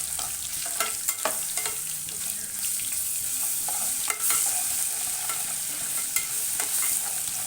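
Ginger garlic paste sizzles steadily in hot oil in a pan, with repeated scraping strokes of a spoon stirring it through, close and fairly loud with no talking.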